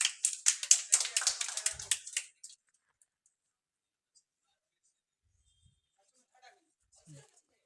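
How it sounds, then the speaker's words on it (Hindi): Audience clapping at a school Class 10 farewell ceremony as a student receives a medal: a short burst of brisk claps for about two seconds that stops abruptly, followed by near silence with faint scattered taps. "ताली मारिए।"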